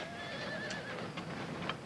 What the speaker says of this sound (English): This animal you call a horse is poorly designed.